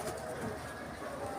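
Pigeons coo faintly inside a pigeon loft, soft low calls blending into a quiet steady background hum.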